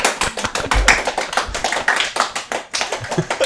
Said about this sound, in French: On fera plein d'applaudissements.